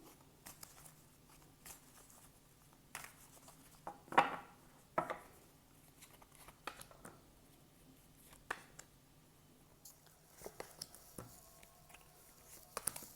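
Tarot cards are shuffled by hand in a quiet room, with soft irregular riffles, taps and slides and a few sharper clicks scattered across the span. No one speaks.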